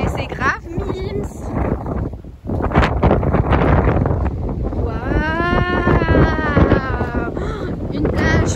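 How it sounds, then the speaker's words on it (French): Strong wind on a Brittany beach buffets the microphone with a constant low roar while people talk over it, their voices rising in excited exclamations. "Il y a beaucoup de vent."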